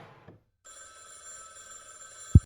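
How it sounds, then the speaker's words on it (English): A telephone rings with a steady electronic trill after a brief pause, followed by a sharp low thump at the end. "My phone is ringing."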